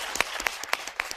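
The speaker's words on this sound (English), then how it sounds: "Let's give Zimkita a round of applause" A conference audience gives a short round of applause, with fairly soft, steady clapping and distinct individual claps.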